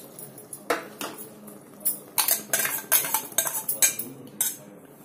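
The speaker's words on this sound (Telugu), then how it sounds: "వేసుకొని మంచి కలిపేయండి" A spoon clinks and scrapes against a metal pan while stirring ground masala and coriander into chicken fry, with irregular sharp taps and rattles at close range and no talking.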